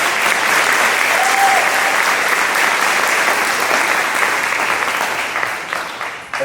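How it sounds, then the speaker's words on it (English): Loud, sustained applause from a graduation crowd cheering for a teacher, thick continuous clapping that fades slightly near the end. "everybody clap it up for Mr. Q real quick"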